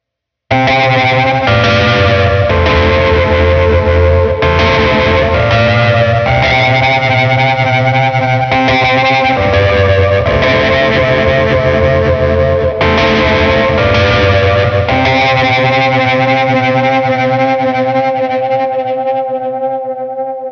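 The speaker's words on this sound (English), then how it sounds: "I wanted to use a very 60s sounding reverb" Distorted guitar-like chords washed in an Empress Effects studio plate reverb set for a 60s sound, loud and sustained, with smeared reverb tails and chorus shimmer decaying at the end, no voices.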